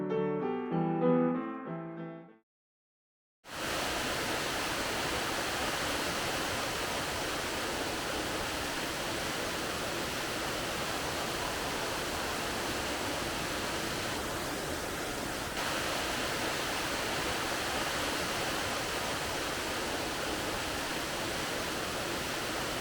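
A steady, heavy roar of a waterfall at a power station intake, falling over bedrock, runs unbroken and loud throughout, after a few seconds of someone talking and a brief silence.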